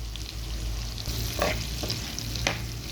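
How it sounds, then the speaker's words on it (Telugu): Bitter gourd pieces frying in a pan, a loud, steady close sizzle broken by a few sharp scrapes and knocks of stirring. "ముక్కలు వేగాక అప్పుడు వేసుకోవాలి కొంచెం వేగాలి వేగనిద్దాం"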